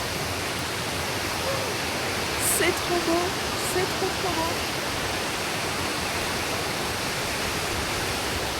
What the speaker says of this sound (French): On vient d'arriver à la cascade